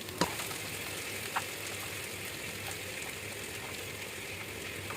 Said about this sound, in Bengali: এখানে আমি মাংসের তেলে দেখো মাংস দিয়ে দিলাম